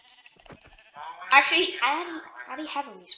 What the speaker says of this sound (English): Also, I found a sheep.